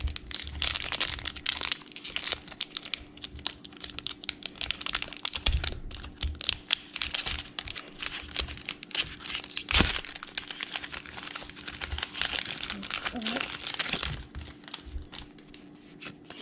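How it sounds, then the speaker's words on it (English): Tearing open a foil wrapper on a Pokémon card booster pack: continuous close crinkling and crackling of plastic, with sharper tearing cracks around the middle and a quieter stretch near the end. "Open up the next one. Oh, this Mewtwo pack."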